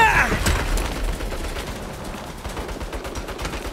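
Turret gunfire in the video game Saints Row, a rapid loud fusillade of shots opening with a sharp burst and continuing as steady repeated firing.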